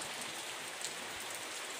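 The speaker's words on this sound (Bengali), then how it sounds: "বৃষ্টি পড়ছে" Steady rain patters down at night, a dense, even hiss of drops striking surfaces nearby, continuous and unbroken with no voices.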